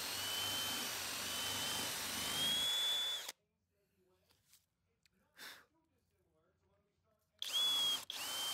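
A power drill bores a ground wire hole through a custom wooden guitar body, loud and steady for about three seconds, then quiet with faint handling noises before a brief second burst of drilling at the end.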